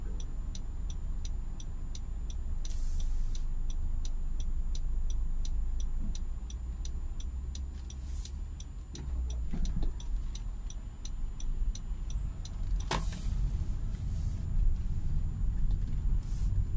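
Road traffic heard from inside a car, a low steady rumble of engines and tyres, with a regular faint ticking like an indicator running throughout and a few sharp knocks and bumps.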